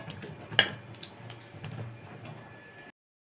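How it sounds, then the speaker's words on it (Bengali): Soft, wet squishing and light scraping as a ladle mashes boiled pumpkin and potato in a pot, with one sharper clink early on, then silence at the end. "সুন্দর করে ম্যাশ করে নিচ্ছি।"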